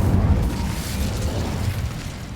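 The Incendio fire spell in Hogwarts Legacy erupts as a loud, close, deep whooshing burst of flame that rumbles on and slowly settles, with no talking over it.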